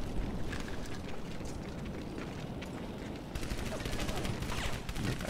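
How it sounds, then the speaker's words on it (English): Rapid gunfire in the World War II shooter game Medal of Honor: Vanguard, dense crackling bursts and booms running continuously over a noisy battle background. "I guarantee I can reload this gun after firing a bullet."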